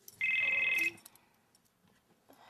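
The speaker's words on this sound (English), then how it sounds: "Get the phone, honey." An indoor telephone gives one loud, steady electronic ring lasting under a second, then goes quiet with faint room noise and a soft knock afterward.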